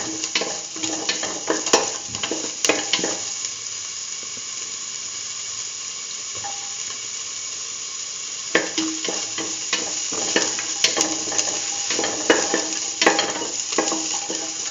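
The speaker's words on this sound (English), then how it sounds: "Put in the shallots, salt, and mix thoroughly." Shallots and salt being stirred in a frying pan, with a steady sizzle under bursts of scraping and clattering utensil strokes, close and fairly loud, with a quieter stretch in the middle.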